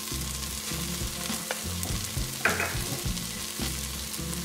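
Tomato paste is sautéed in a pan for a Colombian fish-head sancocho, giving a soft, continuous frying sizzle with light stirring scrapes and a few small clicks.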